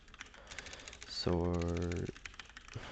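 Computer keyboard typing, quick clicky keystrokes up close, interrupted midway by a sustained tonal electronic sound, with someone talking over it.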